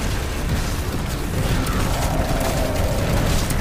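A grenade blast in a Crown of Sorrow raid boss fight, a dense rumbling boom with a roaring low-end wash that sustains loudly through the clip amid chaotic game noise.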